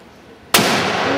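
A single loud, sharp gunshot from a .470 Nitro Express rifle cracks out after a moment of quiet, followed by a long ringing echo and outdoor rumble.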